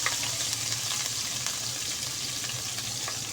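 Chopped onion sizzles in a hot pan with garlic and ginger while potato slices are cooked, giving a steady, close, bubbling fry with faint stirring scrapes and no talk.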